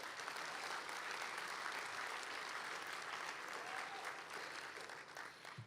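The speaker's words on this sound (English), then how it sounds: "Can we get another round of applause?" Sustained applause from a graduation audience at a Felix Fraga Middle College class of 2024 ceremony, dense steady clapping that fills the whole stretch, with faint voices mixed in and a slight fade near the end.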